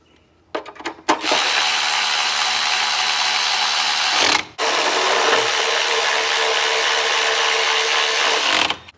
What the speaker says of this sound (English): let's take our new filter and pop it into place and bolt it down